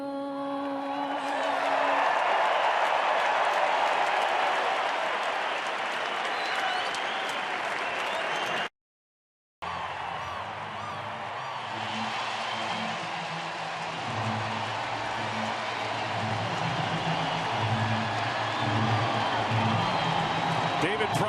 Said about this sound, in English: Crowd is alive and well.